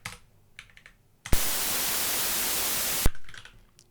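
A loud burst of white noise from a WAV generator written in Rust starts abruptly and holds for about two seconds, framed on either side by quiet keyboard typing and clicks.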